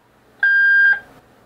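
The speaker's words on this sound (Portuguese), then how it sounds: "Depois desse bip, a câmera voltou com as configurações originais de fábrica." A single clean electronic beep from an IP camera during a factory reset sounds for about half a second, steady in pitch and close by, against a quiet background.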